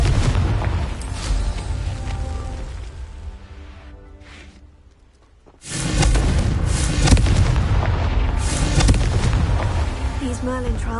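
Confringo explosive spell in Hogwarts Legacy, a loud blast that erupts suddenly after a quieter dip and rolls on into continued booming impacts and game noise.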